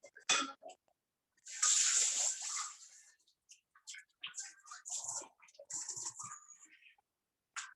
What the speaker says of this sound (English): I might need a little more water just because it does need to be dry.